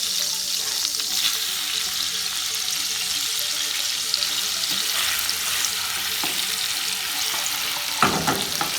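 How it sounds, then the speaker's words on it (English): Onions sizzling in hot oil in a pan that has held coconut shrimp, with a steady bright fry crackle and stirring scrapes throughout, plus a louder clatter near the end. "we're going to stir in the onions, and we're going to allow them to soak up all of that flavor and get a little bit translucent"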